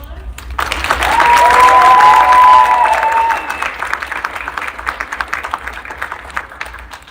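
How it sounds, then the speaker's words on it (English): A college communications awards audience breaks into loud applause that swells quickly, peaks for a couple of seconds, then thins into scattered claps, with a cheer or whistle rising briefly above the crowd. "One more round of applause."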